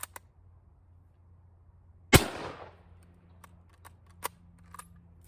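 A single loud rifle shot from 8mm Argentine/Ecuadorian surplus ammunition, fired over a chronograph, followed by a short fading echo and a few faint clicks.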